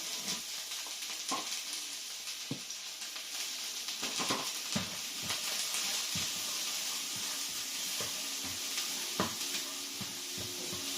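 Onions frying in a pan for butter noodles give a soft, steady sizzle and hiss with scattered light clicks and scrapes of stirring, fairly quiet and close, with no talking.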